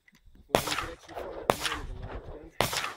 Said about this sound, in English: here's Alan Butler shooting a large gun.